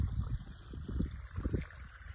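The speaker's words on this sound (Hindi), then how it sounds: "दोस्तों उड़दों को पानी पिला रहे हैं" Irrigation water from an engine-driven pump flows into a field of urad beans, a faint trickling, splashing stream with low rumbling underneath and no talk.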